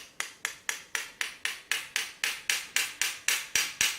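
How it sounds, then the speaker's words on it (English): A hammer taps a bullet cam lock about fifteen times in a steady, even rhythm, each strike a sharp, close metallic knock with a short ring. "where's my hammer? Let's give it a little tap."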